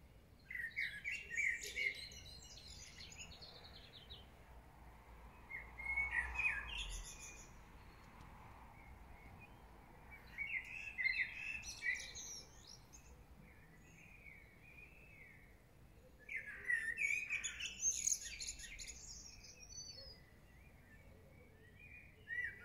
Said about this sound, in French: je vous faisais écouter les oiseaux